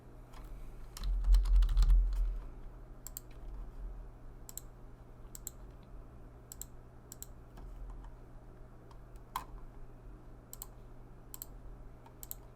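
Computer keyboard typing and mouse clicks while charting a clinical note in Open Dental software, a dense burst of keystrokes early, then scattered sharp clicks spread across a quiet hum.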